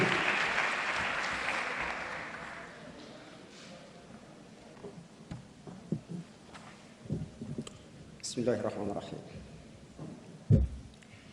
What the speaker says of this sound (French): Sous vos applaudissements, nous allons accueillir Monsieur Dem, s'il vous plaît.